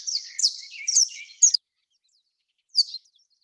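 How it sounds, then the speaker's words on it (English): Saffron finches sing in a botanic garden in the Colombian Andes, a run of bright chirping notes followed by a short pause and one more brief call, close and clear against silence. "we ran across some cute little saffron finches"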